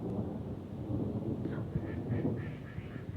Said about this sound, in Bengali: আকাশ কিভাবে ডাকতেছে দেখেন।